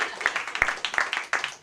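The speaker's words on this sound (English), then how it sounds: "Come on, guys, clap it up for Cody, everybody." A comedy club audience giving a comedian named Cody a brief, thin round of scattered applause, with a few claps standing out over a sparse crowd.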